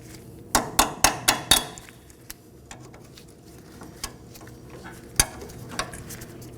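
Cutters snipping and working a cotter pin out of a front axle nut on a 2013-2019 Nissan Sentra: a quick burst of five sharp metallic clicks, then a few sparse taps and clinks, close by in a quiet garage.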